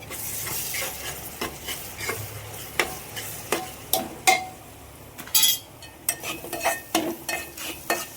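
Ginger-garlic paste frying in oil for masala rice, with a steady sizzle under repeated sharp clinks and scrapes of a spoon stirring against the pan, close and fairly loud.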